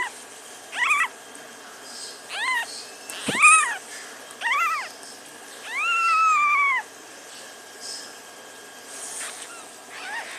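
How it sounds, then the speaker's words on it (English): Several high, thin newborn kitten mews in a loose series, one drawn-out cry near the middle, over a quiet background hiss. "And it's a ball of kittens."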